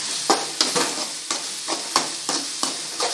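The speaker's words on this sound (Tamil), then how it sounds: "தேவையான உப்பை போட்டு வதக்கி விட்டுடலாம்" Tomato rice masala with chilli powder and salt sautéed in a pan: a low background sizzle cut by about nine evenly spaced scraping stirs of the ladle, close and clear, with no talk.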